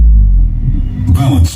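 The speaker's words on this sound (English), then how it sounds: "Subwoofer kick test." A subwoofer test signal of deep bass thumps and low rumble fills the clip loudly, ending with a brief burst of brighter noise near the close.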